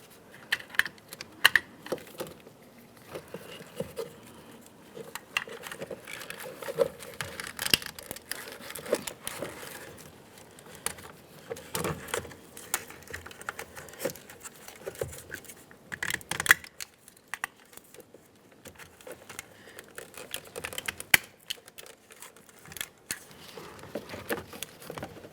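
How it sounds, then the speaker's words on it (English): Electrical connectors snapping into the master switch panel in a 1998-2002 Lincoln Navigator door give sharp little clicks scattered among quiet handling rustles and taps, close and fairly soft, with no talking. "Listen for a click on each one of the connectors."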